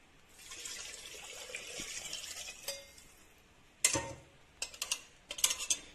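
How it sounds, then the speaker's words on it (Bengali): Water is poured into a pot holding rice, chicken and potatoes for chicken pulao, a steady rushing pour that ends, followed by several clinks and taps of metal utensils, close and fairly quiet. "এটা ফুল বাটি আমি এই জলটা দিয়ে দেবো"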